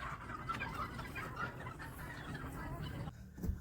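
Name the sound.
turkey calling on a farm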